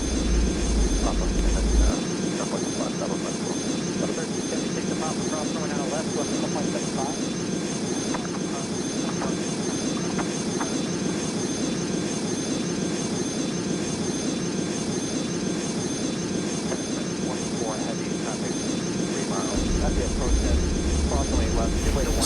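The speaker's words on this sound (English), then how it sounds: "I'll rev the engines all the way up to get them up to full speed" Airliner engines roar in a steady, dense drone as they spool up for takeoff in the Airline Commander mobile flight game, holding at a constant loud level under occasional talking.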